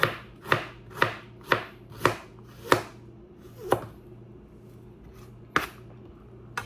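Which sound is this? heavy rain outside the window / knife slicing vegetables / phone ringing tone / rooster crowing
knife slicing vegetables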